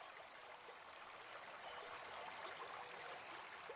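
A river flows steadily past in a calm natural setting, its broadband rushing and trickling water sound continuous and even, moderately close, with no voices over it.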